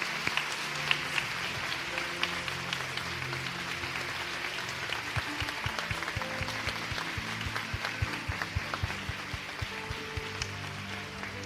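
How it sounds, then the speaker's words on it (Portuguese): Steady applause from a church congregation during a worship service, a quiet, sustained patter of many hands clapping with no break. "Uma salva de palmas pela vida desses irmãos."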